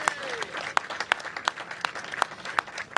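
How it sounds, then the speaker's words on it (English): Audience applause at a Washington, D.C. mayoral event unveiling the Frederick Douglass Memorial Bridge: a crowd clapping steadily, with several sharp, close claps standing out above the general patter and faint voices underneath. "Give them a big round of applause as well."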